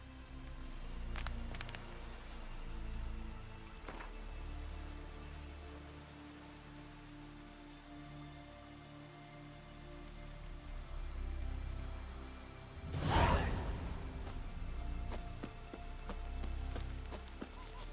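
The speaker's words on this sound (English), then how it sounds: "It's raining." Steady rain pattering on surfaces in the video game The Witcher 3, a continuous dense hiss with scattered drops and one louder splash or rumble partway through, no voices.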